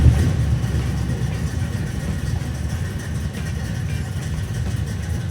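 A 1968 Chevelle engine idling close by, a loud, steady low rumble with a slightly uneven lope that holds throughout.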